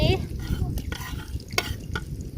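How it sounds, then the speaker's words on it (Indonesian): Shallots and garlic sauté in oil in an outdoor riverside cooking setup, a soft sizzle with a few clinks of the spatula against the pan, close and moderately quiet. "Kita tumis dulu bawangnya. Kita masukkan bawang merah, bawang putih."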